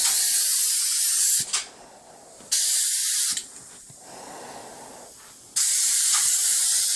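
A Graco Merkur ES sprayer sprays a fine finish in three loud, steady hissing bursts, each lasting a second or more, close by, with quieter room noise between them.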